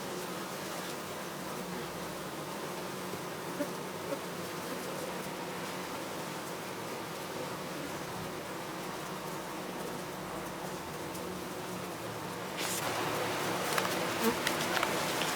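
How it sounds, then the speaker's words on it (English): Honey bees swarm and buzz around a cage holding a mated queen, a dense steady hum close by with no talking, growing louder and busier near the end. "I bet you this thing's going to be just covered with bees."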